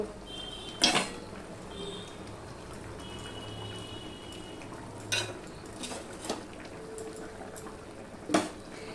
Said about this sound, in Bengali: এবার আমি 5 মিনিটের জন্য ফুটতে দেব।